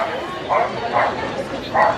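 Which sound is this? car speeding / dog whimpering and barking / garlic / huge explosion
dog whimpering and barking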